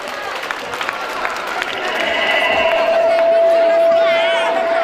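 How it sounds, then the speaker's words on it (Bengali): A school function audience claps together in a dense, steady wash of applause that swells slightly and holds, with a sustained tone running through it and voices mixed in. "সকলে জোরে আরেকবার করতালি হয়ে যাক"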